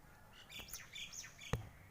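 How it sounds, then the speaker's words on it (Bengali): Birds chirp at dusk as they return to roost, a few faint, quick high tweets and squawks, distant and sparse, with a sharp knock near the end. "পাখির ক্যাচমেচ আওয়াজ, এখন ঘরে ঘরে ঢুকছে পাখিরা।"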